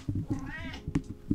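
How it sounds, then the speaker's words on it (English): A pet cat lets out a single drawn-out meow close to the microphone indoors, clear and moderately loud, with faint background noise around it. "That's my cat."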